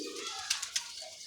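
Domestic pigeons from a fancier's loft cooing softly, a few short soft coos up close in a quiet setting, with no talking.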